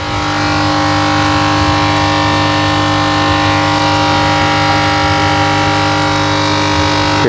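A Resun LP 200 air blower aerating a fish filtration tank on a tilapia farm gives a loud, constant mechanical hum with steady tonal drone and no change in pitch or level.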